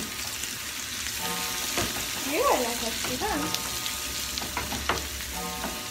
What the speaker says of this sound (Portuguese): Aqui nós vamos deixar a cebola até bem, ficar bem murcha. Então murchar, fritando para murchar.